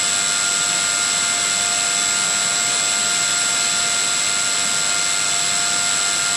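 A motor-driven blade spins at just over 6000 RPM, giving a steady, loud whine with sharp constant tones over a dense hiss, unchanging throughout with no talk.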